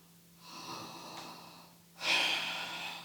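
During a yoga lizard lunge, two long breaths are heard close up: a soft airy inhale followed by a louder, breathy exhale, over a low steady hum.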